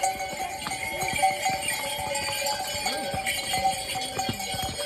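Horses on a snowy mountain pilgrimage trail climbing toward Hemkund Sahib, hooves clopping in a quick, irregular rhythm close by, with steady outdoor background noise and no talk.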